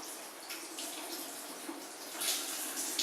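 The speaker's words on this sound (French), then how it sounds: "tout ça est très très simple à nettoyer en passant juste sous l'eau du robinet" Tap water runs steadily over the rinsed parts of an Omega VRT juicer, including the rotating brush and auger, a close hissing splash that swells louder toward the end.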